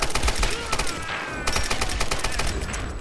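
Rapid gunfire crackles in the Tomb Raider video game as an automatic weapon is emptied in loud, fast bursts. The shots come as a dense, close stream of cracks over ongoing game noise.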